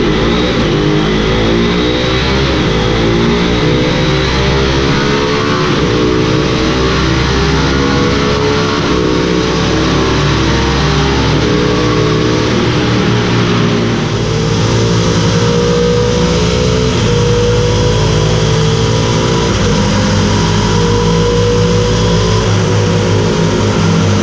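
KTM Duke 390 motorcycle fitted with a Race Dynamics quickshifter, its engine revving hard and loud with rising pitch sweeps broken by quick clutchless upshifts, sustained close-up for the whole stretch without speech.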